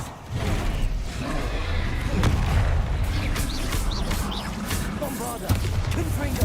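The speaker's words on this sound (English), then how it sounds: "Bombarda. Confringo." Repeated booming spell blasts from Bombarda and Confringo in Hogwarts Legacy, heavy thuds and crashes over a busy game background, with a man calling out spell names.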